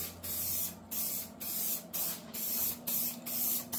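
Guide coat aerosol sprayed onto primed body filler in short hissing bursts, about six or seven evenly spaced sprays with brief pauses between, close and steady.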